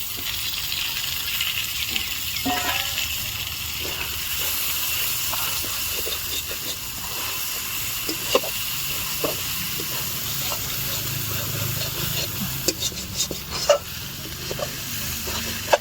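Spices and tomato being sautéed in a pan for a home-cooked meat curry, giving a steady broad hiss of frying with scattered stirring clicks and scrapes throughout, fairly close and continuous without talk.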